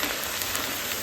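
Garlic and ginger paste frying in a pan over medium heat, giving a steady dense sizzle with no pauses, close and even throughout.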